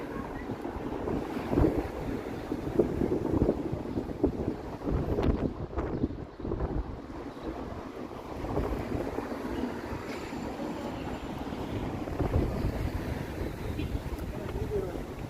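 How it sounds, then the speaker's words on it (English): Wind gusting across the microphone on an outdoor city walk in Toronto on a warm evening, a steady broadband rumble lasting throughout with faint street ambience, no speech. "Got a nice breeze here."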